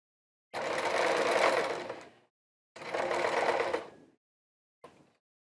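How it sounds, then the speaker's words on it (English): A sewing machine stitching chaps runs in two long bursts of rapid, steady stitching, then a brief third spurt, with pauses between; close and fairly loud. "Come back over to the sewing machine."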